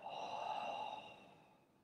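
A long, steady exhale through the mouth during a guided yoga breathing exercise, a soft breathy whoosh close by that fades gradually over about two seconds, with no talking.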